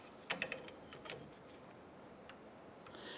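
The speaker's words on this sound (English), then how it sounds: "Go ahead and tighten down our jam nut." Wrench tightening a jam nut on the outer tie rod of a Ram 1500, a few faint close metallic clicks and ratcheting ticks early on, then quieter handling.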